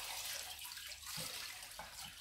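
A microfiber towel swished and rinsed in a bucket of water during leather car seat cleaning, giving a continuous splashing, sloshing wash with a few soft gurgles, close and alone.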